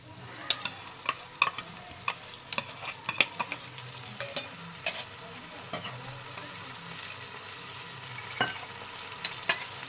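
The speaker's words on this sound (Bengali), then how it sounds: "এবার আমি এখানে অ্যাড করে দেব টক দই।" Whisked sour yogurt stirred into a hot pan on low heat, a soft steady sizzle broken by repeated clinks and scrapes of a utensil against the pan.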